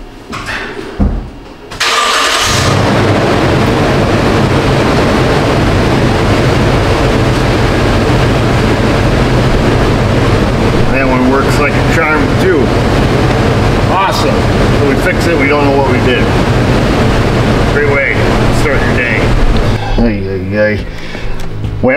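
A Toyota Tundra with a no-speed-signal fault cranks briefly, catches and settles into a loud, steady idle rumble that runs on for about twenty seconds, close up, with a few faint knocks and clicks over the drone.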